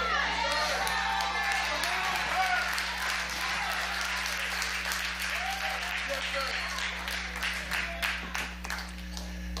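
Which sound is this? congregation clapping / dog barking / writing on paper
congregation clapping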